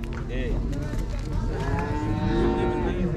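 Cattle at a livestock market low with several drawn-out moos, near and fairly loud over the general market bustle, with people talking in the background.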